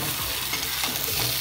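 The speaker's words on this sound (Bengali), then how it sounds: "এবার সব একসাথে ভালো করে একটু কষিয়ে নিয়ে" Spices with Kashmiri red chilli and salt frying and being stirred in a pan for a Bengali egg curry with potato and brinjal, a steady close sizzle with scraping stir noises and no talk.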